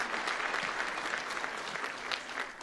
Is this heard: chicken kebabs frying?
no